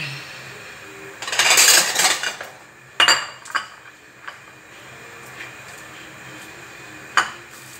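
A knife chops onion and garlic on a board, with a busy burst of quick cuts followed by scattered single knocks and clicks, close and fairly loud with no talking.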